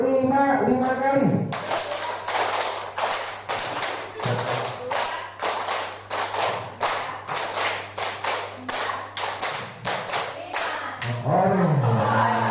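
A workshop group claps hands together in a steady counted rhythm, a long series of sharp, evenly spaced strikes, with voices talking just before and after.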